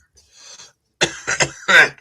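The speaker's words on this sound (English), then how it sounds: "you all want to hear me fucking cough" A few harsh coughs up close, clustered in quick succession after a faint throat sound, with no talking.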